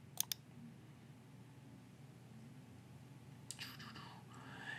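Two quick, faint computer mouse clicks come right at the start, confirming a dialog in 3D modeling software, followed by quiet room tone and a light rustle near the end.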